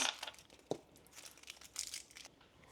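Individual Jolly Rancher hard candies being unwrapped, their plastic wrappers giving off quiet, scattered crinkles and crackles, with one sharper snap partway through, all close up and without talk.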